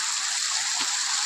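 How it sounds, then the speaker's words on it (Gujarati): Water gushing and pouring out of a Bullet motorcycle being washed in a river, a steady broadband rush with no break throughout. "એમાંથી પાણી નીકળે હે"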